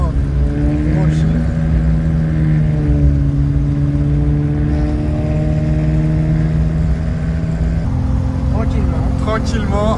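A Simca Aronde Rush Ranch, the estate version of the Aronde, cruises gently at an even speed, its engine a steady, droning hum with slight shifts in pitch, heard close with voices speaking over it.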